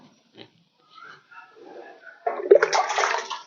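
Water splashes from about 2.3 seconds onward, a loud, broad pour onto potted plants that spills onto the floor, preceded by faint scattered sounds.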